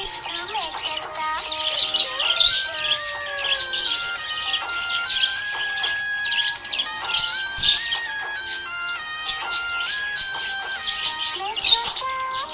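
A happy budgie chirps and warbles in bright, quick tweets and whistles with a few sharp peaks, backed by softer melodic tones across a steady, moderately loud stretch.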